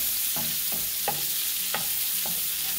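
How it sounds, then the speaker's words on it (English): Garlic Mexican shrimp frying in a pan under a loud, constant sizzle, with about five evenly spaced scraping stirs from a utensil. No voices. "Give it a stir, finish it up."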